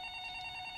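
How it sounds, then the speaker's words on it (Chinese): A telephone rings in an indoor office, a short steady electronic tone held briefly at a moderate level with no speech. "你听到她的电话响了。"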